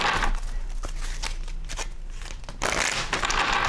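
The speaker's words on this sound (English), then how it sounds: "we got to do one more shuffle here" A deck of tarot cards being shuffled, with crisp papery riffles and crinkling bursts that come and go for a few seconds at close range, with no talking.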